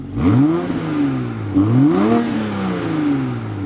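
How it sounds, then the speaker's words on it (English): A car engine with sport mode off revs up twice in smooth rising sweeps, close and steady, idling down between blips with no crackle. "You can hear the sound when I rev it up."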